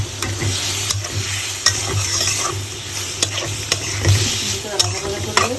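Prawns and onions fry in a pan while being stirred, a steady close sizzle with frequent spoon clicks and scrapes against the metal throughout.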